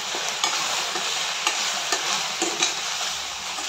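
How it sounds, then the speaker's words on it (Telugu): Okra (ladies finger) frying in a little oil in a pan gives a steady, bright sizzle throughout, with a few soft scrapes of stirring at regular intervals; close and fairly loud, with no voices. "ఫస్ట్లోనే కొంచెం ఆయిల్ వేసి బెండకాయని ఫ్రై చేసుకోవడం"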